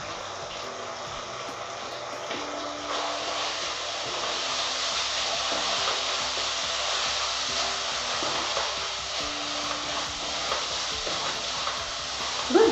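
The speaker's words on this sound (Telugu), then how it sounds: "దగ్గరగా అయ్యే వరకు కలుపుతూనే ఉండాలండి" A sabudana barfi mixture with milk powder is stirred in a pan as it thickens, giving a steady, close hiss and scraping sizzle that runs on without a break.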